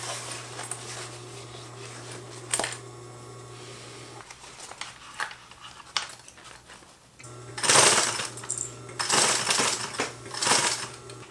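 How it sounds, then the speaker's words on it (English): A sewing machine stitching fabric to a zipper in short bursts, its motor whirring in and out with pauses between runs, close by and fairly loud. "just go ahead and sew it to the zipper, the other side of the zipper first"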